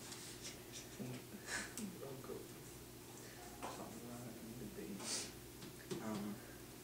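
A pen writes notes with faint, scattered scratching strokes in a quiet room while people talk softly in the background.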